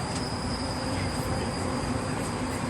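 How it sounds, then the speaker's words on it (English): A metro train pulls into Place des Arts station in Montreal, a steady rumble of wheels and car noise heard from on board with a thin high squeal running through it. "We're now at Place des Arts metro station. Pulling up."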